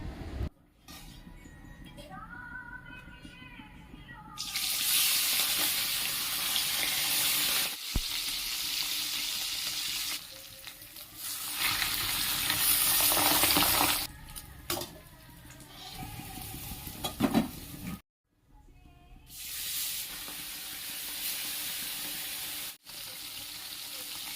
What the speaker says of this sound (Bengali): মাছগুলো ভেজে একে একে তুলে নেব